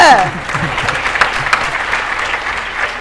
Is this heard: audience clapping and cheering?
yes